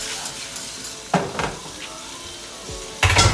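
Shrimp frying in a hot pan, a steady sizzle broken by sharp clatters of utensils stirring and scraping against the metal, close and fairly loud.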